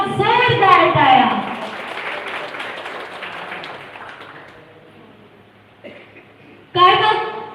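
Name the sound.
applause for the team at a song launch event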